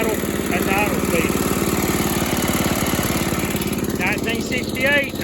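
A 1968 Snapper Comet 30 lawn mower engine, revived after sitting in a barn with a new carburetor, idling with a steady rapid putter throughout, while someone talks over it in snatches.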